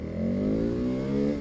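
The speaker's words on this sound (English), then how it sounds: "this V-twin, when you hit power in second gear, it wants to wheelie so bad" A KTM 1290 Super Adventure S V-twin motorcycle accelerates hard, its engine note rising smoothly in pitch over a brief, loud, close burst with no talk.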